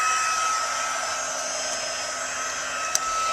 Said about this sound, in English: So we're going to actually melt that with the heat tool.